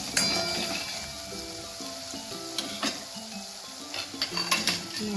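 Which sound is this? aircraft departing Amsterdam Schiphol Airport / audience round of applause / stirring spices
stirring spices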